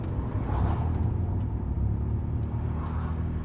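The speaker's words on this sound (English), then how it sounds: "I've got one hell of a rumbling sound, but I don't know if it's just the tyres." A turbocharged Mazda MX-5 Miata on the move gives off a steady, heavy low rumble inside the cabin, with road and tyre roar holding an even level throughout.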